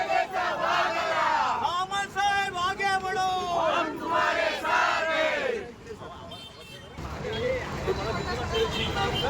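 Party workers cheering and celebrating in Ratnagiri after a minister's swearing-in, a crowd of loud chanting voices shouting slogans in rhythmic bursts, close and energetic, then giving way to noisier, more diffuse crowd hubbub.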